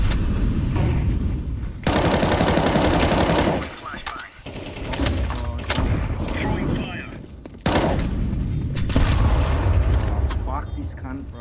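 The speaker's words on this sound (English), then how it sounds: "Flashbang." Gunfire and a flashbang grenade blast erupt in a first-person shooter video game. Dense, loud bursts of automatic fire are broken by short quieter gaps, with a voice talking now and then.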